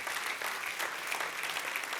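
A church congregation claps loudly and continuously, a dense, even wash of many hands filling the room for the whole moment.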